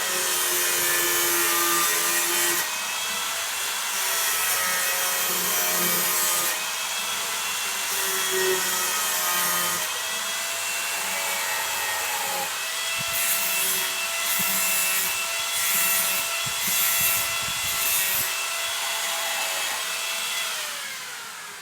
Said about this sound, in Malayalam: നമുക്ക് കട്ടർ മെഷീൻ ഉപയോഗിച്ച് കട്ട് ചെയ്യാം.